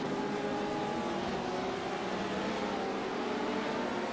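A race car engine in the iRacing sim drones steadily and loudly with a dense, buzzing tone, holding a fairly constant pitch throughout.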